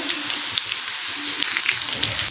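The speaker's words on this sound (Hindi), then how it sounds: "हम इसमें अब डाल देंगे सफ़ेद ज़ीरा 1 टेबल स्पून डालेंगे" White cumin seeds sizzle in hot oil with ginger-garlic paste for a lobia curry, a dense, close crackling fry that stays steady throughout, with no talking.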